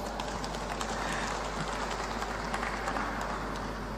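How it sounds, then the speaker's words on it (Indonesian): Audience of officials at a West Java government gathering applauding, a faint, distant, steady patter of clapping over a low constant hum, without clear individual claps. "Tepuk tangan ya"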